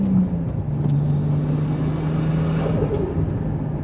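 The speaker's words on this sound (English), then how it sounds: "I love the way this car sounds. It just sounds so good." Nissan Skyline engine running close by with a steady humming drone and slight rises in revs, continuous and fairly loud with no talk.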